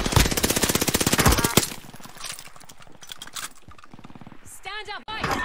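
Rapid automatic gunfire in a video game rattles loudly in dense bursts for the first second and a half, then thins into scattered shots beneath ongoing talk from players.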